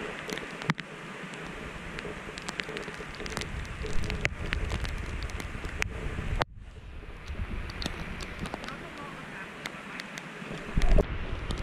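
Rain and wind on a mountain trail up to the Mulayit pagoda in Myanmar during a storm: steady hiss and patter with gusty rumble, close and continuous, interrupted by a brief dip partway through.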